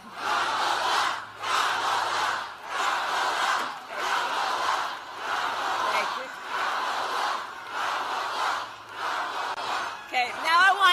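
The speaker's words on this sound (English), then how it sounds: "the entire crowd in Michigan is screaming and chanting her name" A large political rally crowd in Michigan screams and chants a candidate's name, rhythmic surging chant repeated about eight times in steady pulses, loud and massed, ending in scattered cheering.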